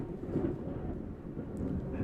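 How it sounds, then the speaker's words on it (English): Thunder rolling during a thunderstorm, a steady low rumble that fills the whole stretch at moderate level, with no voices over it. "I don't know if y'all can hear that or not, but it's thundering loud."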